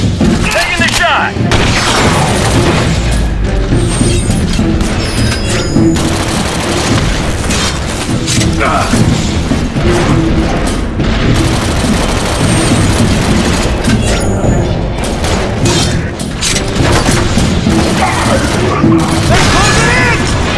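Sustained combat gunfire in The Bureau: XCOM Declassified, loud overlapping shots and booming impacts with explosions and debris, a dense continuous battle racket with voices calling out over it.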